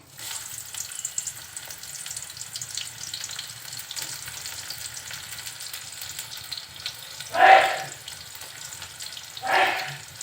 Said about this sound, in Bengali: তেলের ভিতর দিচ্ছি গোটা গরম মশলা দিচ্ছি পেঁয়াজ কুচি একটু বেশি পরিমাণে